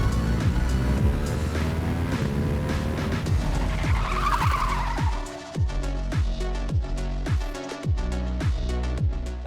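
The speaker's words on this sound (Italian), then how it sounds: "la sonorità di scarico diventa ancora più coinvolgente" A Ducati Hypermotard V2 with a Termignoni racing exhaust revving hard, the engine note rising and falling through repeated fast upshifts, loud and close with a rasping exhaust bark.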